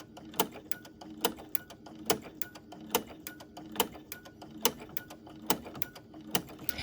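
A sewing machine stitches embroidery on a kitchen towel, running slowly in a steady mechanical clatter of regular needle strokes, close and alone.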